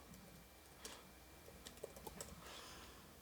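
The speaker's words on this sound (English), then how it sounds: "So we're going to type in Scholar Google" Typing on a computer keyboard, faint scattered key clicks in short bursts against a quiet room hum, with no talking.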